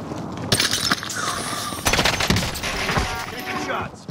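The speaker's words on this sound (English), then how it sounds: "Taking shots." Rapid gunfire crackles through a rooftop firefight in Call of Duty: Modern Warfare, with loud overlapping bursts, sharp single shots and clattering impacts layered over a dense battle din and game voices.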